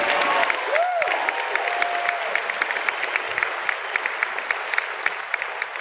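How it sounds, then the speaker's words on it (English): Audience at a grand opening event honoring motivational speaker Zig Ziglar bursts into sustained applause, a dense clapping wash with a few sharper individual claps standing out, continuing evenly throughout. "Why don't we applaud him so he can hear us?"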